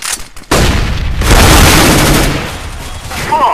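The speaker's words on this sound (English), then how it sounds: "Throwing flash grenade." A flashbang grenade goes off in an online shooter match: a loud sharp bang, then a long roaring burst of noise that slowly fades.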